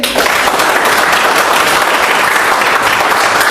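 An audience at a Vestige business training session claps together, a dense, loud, steady wash of applause that fills the whole stretch without letting up.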